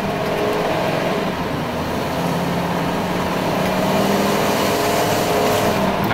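Ford 14-foot U-Haul box truck engine revving steadily from inside the cab, a continuous loud rumble with road noise that holds for several seconds without speech.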